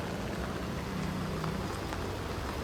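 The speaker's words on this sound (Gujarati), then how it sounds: "બહુ જબરદસ્ત વરસાદ પડે છે" Heavy rain pours down during flooding in Surat, a dense, steady patter and hiss at moderate distance with no voices.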